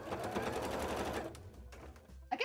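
A home sewing machine stitches fabric for costume wing scales in a rapid, steady whir for about a second, then stops, leaving a few soft clicks and handling noises.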